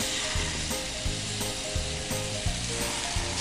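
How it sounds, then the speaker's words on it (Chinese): Tofu frying in a hot pan gives a steady, dense sizzle throughout, with faint periodic clicks and shuffles as the pan is handled, close and continuous without any voices. "我要等这个豆腐呢煎到有点擦擦"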